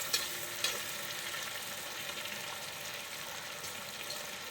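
Prawns fry in a pan of hot oil for pickle, giving a steady, close crackling sizzle with a few sharper pops near the start and no voices.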